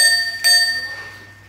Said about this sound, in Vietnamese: Chuông của xe.